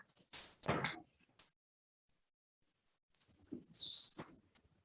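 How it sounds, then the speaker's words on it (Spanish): Small birds chirp outside in short, high, scattered bursts with pauses between them, fairly faint and heard from a distance. "¿Se escuchan los pajaritos?"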